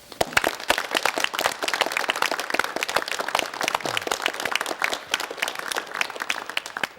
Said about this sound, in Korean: 우리 같이 우리 박수를 칩시다